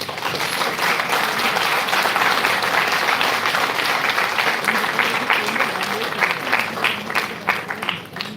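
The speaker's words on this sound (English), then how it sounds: "Please give them a huge round of applause." A hall audience at an English debate event gives loud, sustained applause, dense clapping holding steady for several seconds before tapering slightly at the end, with no talk over it.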